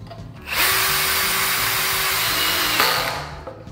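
Einhell 18 V brushless cordless drill driving a screw into angle iron: a single loud, steady motor whine and grinding run of about two and a half seconds, starting abruptly and then winding down.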